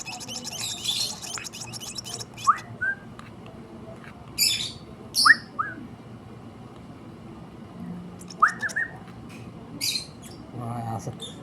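A bird gives a few short chirps and whistled calls, scattered and fairly close, separated by quiet gaps over low background hum.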